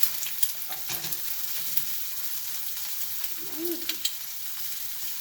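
An omelet fries in a pan for a crispy finish, a continuous close sizzle with a few faint clicks and a brief soft tonal blip, no talking.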